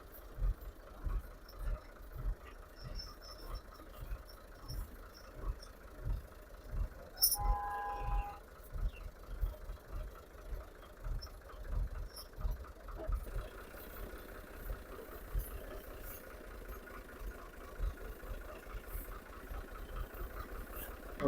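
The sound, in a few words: tractor engine running while pulling a loaded trolley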